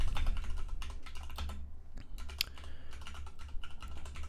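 Rapid typing on a computer keyboard while entering a password on a Mac M1 running UTM, a dense run of close key clicks throughout with a brief pause midway, no talking.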